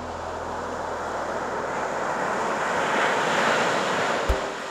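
A steady, broad roar of ocean surf at Baler, continuous and fairly loud, with a sharp knock near the end.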